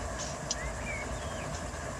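Freight train with DPUs at the rear running in the Run8 train simulator, a steady low rumble of rolling cars with faint squeals, continuous and fairly loud throughout.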